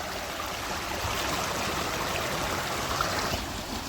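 Steady rushing water pours continuously over a small dam at Belpada quarry in the monsoon, a broad even roar with no breaks, heard up close and alone without any voices.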